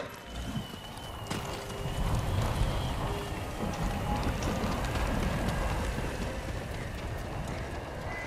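Horse hooves clip-clopping through the outdoor woods and lakeside of the video game Ghost of Tsushima, a steady rhythmic plodding under ambient rain-like noise, close and moderately loud, with no clear whinny.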